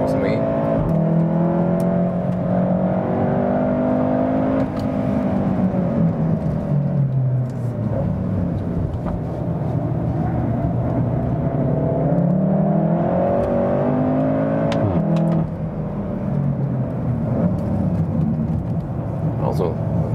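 A 310 hp all-wheel-drive facelift Volkswagen Golf R driven hard on a racetrack, its engine droning loud and steady with rising and falling revs throughout, while someone talks over it.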